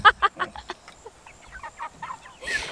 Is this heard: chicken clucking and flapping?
yes